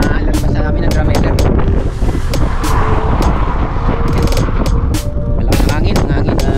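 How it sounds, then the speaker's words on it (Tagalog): Strong crosswind roars and buffets the microphone steadily from start to finish during a road cycling ride near Drumheller, Alberta, a loud rushing blast with muffled vehicle rumble underneath. "Malakas ang hangin"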